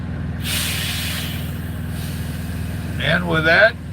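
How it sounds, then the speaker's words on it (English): A noisy truck parked close by idles with a steady low engine rumble, and a sharp hiss of air brake release bursts out, with a brief second hiss near the end. "I just had a noisy truck parked beside me."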